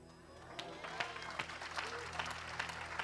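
Applause from a congregation at a French-language church service, a steady wash of clapping with sharp individual claps and crowd noise, mixed with voices.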